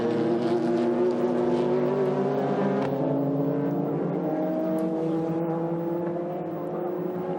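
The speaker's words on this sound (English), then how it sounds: "Shinya Hosokawa on board the Raybrig car" Onboard engine of the Kunimitsu Racing Raybrig Super GT race car at the 2007 Autopolis 300 km round, a loud, steady high-revving drone that holds without a break and eases slightly in pitch near the end.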